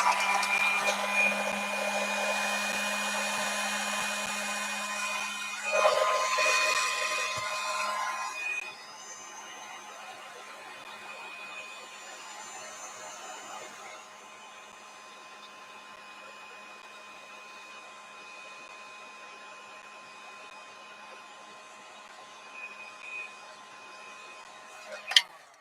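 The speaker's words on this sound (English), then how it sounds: "Plug in the old heat gun." A heat gun used for a gel-printing craft project blows hot air with a steady whirring hiss that is louder at first and then drops to a quieter, continuous drone, with a sharp click at the end.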